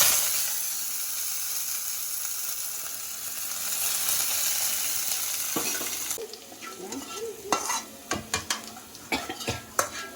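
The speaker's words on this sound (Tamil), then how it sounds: "வச்சு வெங்காயம் கருவேப்பிலை தாளிக்கிறேன்" Loud hissing sizzle of onions and curry leaves frying in hot oil, then a spoon clatters and scrapes against a metal pan as the sizzle continues underneath.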